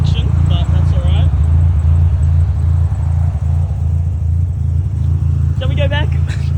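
A Mazda RX-7 engine idles with a heavy, continuous low rumble, close and loud throughout, while voices talk over it.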